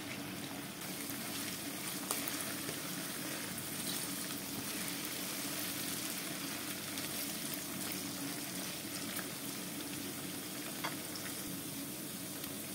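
Garlic fries in a pan for bulgur pilaf, giving a steady, dense sizzle that continues evenly throughout with no pauses and no talking.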